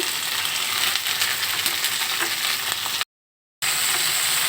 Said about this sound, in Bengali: এবার দিয়ে দিব কেটে রাখা ঢেঁড়স ফালি করে কেটে রাখা আলু ও টমেটো